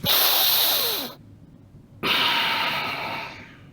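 Deep belly breathing shown as a demonstration: a long, loud breathy inhale-exhale rushing close to the mic, a second of quiet, then another strong breath that slowly fades, with no talking.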